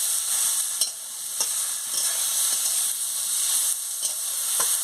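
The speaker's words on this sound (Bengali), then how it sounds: "শাকটাকে দিয়ে ভালো করে নাড়িয়ে নিচ্ছি" Shushni greens frying in a pan with a steady high sizzle, broken by several sharp scraping strokes of stirring spread through the clip; close and moderately loud, with no voices.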